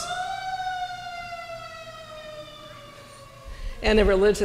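A siren wails with a slowly falling pitch, steady and fairly loud, before a burst of louder noise cuts in near the end.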